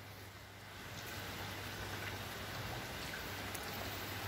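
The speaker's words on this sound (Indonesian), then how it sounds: "Dari subuh hujan sampai sekarang." Steady rain that has been falling since dawn, a dense even hiss of drops spattering on surfaces that swells slightly after the first second and holds, with no voices.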